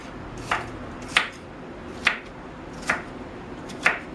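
A knife chopping through vegetables for chili on a cutting board gives five crisp, evenly spaced knocks, close and fairly loud over quiet kitchen background.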